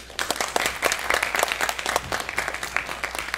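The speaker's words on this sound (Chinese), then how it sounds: "再来也请各位老师以热烈的掌声欢迎观课与回响的教授及教师们" An audience at a mathematics teaching seminar applauds to welcome visiting professors and teachers, a dense, steady burst of many hands clapping for a few seconds.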